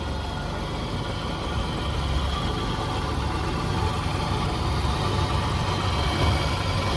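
A 1994 Suzuki Katana Corsica engine idles steadily at close range, giving a continuous low rumble with an even drone throughout and no talk.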